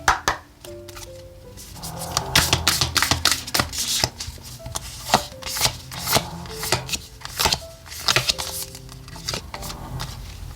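Oracle cards are shuffled by hand in a quick, papery flurry of riffling and slapping that runs steadily throughout, close and clear over quiet background music.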